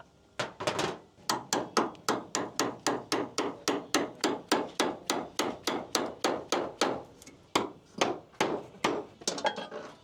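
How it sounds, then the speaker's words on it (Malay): A hammer strikes repeatedly during installation of a ceiling cassette air conditioner in a home, delivering about thirty sharp, evenly spaced blows in steady rhythm, close and distinct, with a brief pause near the end and no talking. "Dengan hammer sekali."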